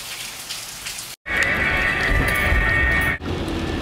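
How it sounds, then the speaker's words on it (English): Rain falls steadily in a dense, loud hiss on surfaces nearby, cutting out briefly twice as if the recording paused, with no talking. "It's still raining."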